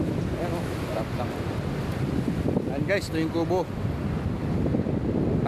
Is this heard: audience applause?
no